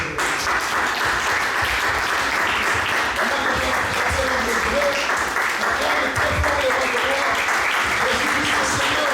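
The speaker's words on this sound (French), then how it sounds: "Est-ce que nous pouvons acclamer très fort?" A church congregation cheers and applauds loudly at a Sunday worship service, a dense, steady wash of clapping and voices that fills the whole stretch without a break.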